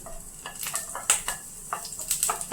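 Four shallots fry in a tablespoon of coconut oil, giving a light sizzle broken by quick metallic spoon scrapes and taps against the pan.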